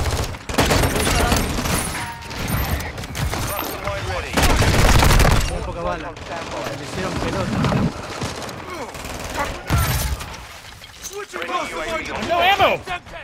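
Rapid pistol fire from Glocks in a multiplayer shooter game, loud bursts and scattered shots with heavy booming stretches, mixed with frequent shouted talk between players.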